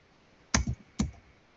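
Enter key on a computer keyboard pressed twice, close and crisp, each press a sharp click with a brief release clack, the second half a second after the first, in quiet surroundings.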